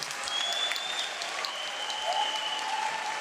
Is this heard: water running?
no